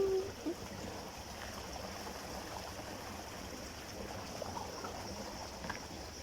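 Strong-flowing stream water, a steady rushing and gurgling at moderate distance, continuous with small splashes and no talk over it.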